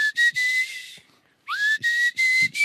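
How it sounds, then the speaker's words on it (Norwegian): A person whistles a short melody of clear, steady notes close to the microphone, with a brief pause and an upward-sliding note before the tune resumes. "Du plystrer litt annerledes enn vanlige folk."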